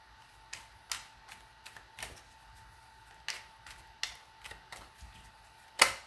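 Tarot cards being shuffled in an unfamiliar way, heard as a series of soft, irregular snapping taps at close range with quiet gaps between them.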